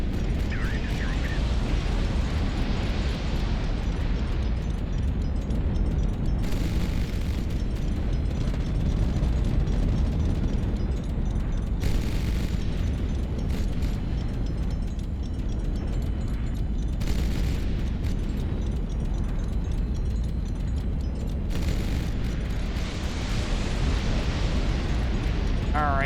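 Continuous heavy roaring blasts and rumbling booms from a destroyed ship in the video game HighFleet, loud and dense throughout, with a voice talking over parts of it.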